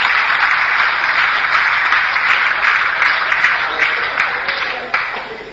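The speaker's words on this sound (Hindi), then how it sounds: "एक बार तालियां बजाएं आपके लिए" Audience applause at a motivational seminar, a fairly loud, dense patter of clapping that holds steady and then gradually fades toward the end.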